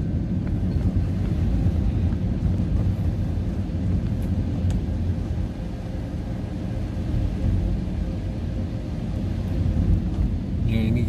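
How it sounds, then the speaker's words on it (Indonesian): Steady, heavy rain with a deep low rumble throughout, like distant thunder rolling under the downpour, beside the Kayan River in Tanjung Selor, Indonesia. "Hujannya awet nih guys, sampai jam 1 lewat ini masih hujan guys ya."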